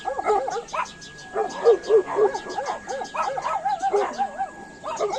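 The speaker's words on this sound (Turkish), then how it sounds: "Buradan havlıyor kendine." A dog yips and whines in quick repeated bursts, high-pitched and fairly close, with a faint steady tone running underneath.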